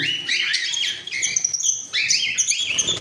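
A pair of Fischer's lovebirds chirps in shrill, rapid, overlapping calls at close range, broken by a brief pause before the chatter resumes.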